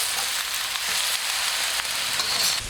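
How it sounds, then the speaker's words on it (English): Chopped cabbage and onion fry in a hot pan for Southern fried cabbage, a steady close, loud sizzle with a hissy crackle that holds unbroken from start to finish, no voices. "add cabbage."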